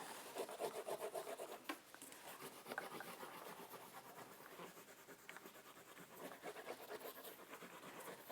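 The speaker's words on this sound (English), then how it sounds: "So when I burnish it," A tool is rubbed firmly over a clear plastic printing plate, giving a faint, continuous, close-up scraping and rasping that runs throughout with uneven strokes.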